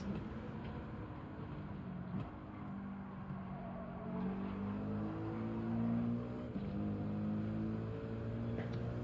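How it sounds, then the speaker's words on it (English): A race car in a racing video game accelerates down the straight, its engine note climbing steadily. The sound is a continuous loud drone with rising pitch that carries through the whole stretch, with no talk. "Dude, that car just fucks off down the straight, huh?"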